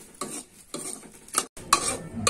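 Semolina roasting in a pan while being stirred gives a run of scraping, rasping strokes. The bursts come in irregular spurts with short pauses between them, close and fairly loud, and nobody talks.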